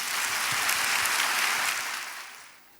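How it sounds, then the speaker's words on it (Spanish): Applause from an audience at a Spanish talk in Albacete, a dense wash of clapping that holds steady and then fades away toward the end. "con un fuerte aplauso os dejo con Susan"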